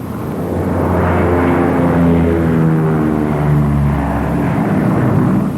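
Twin engines of a Lockheed P-38 in flight, a loud, steady propeller drone with a throbbing low hum that holds even throughout, close and alone with no talk.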